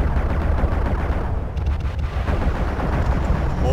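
Incoming missiles in a MechWarrior Living Legends battle, a dense loud barrage of rapid impacts and blasts with rolling rumble, continuous over several seconds.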